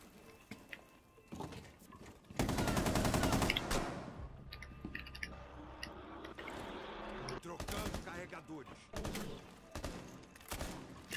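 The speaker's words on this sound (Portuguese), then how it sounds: "Caraca, é uma metralhadora" Rapid machine gun fire in Rainbow Six Siege, a loud sustained burst of gunfire lasting about a second and a half, then scattered shots and game noise with gaps between them.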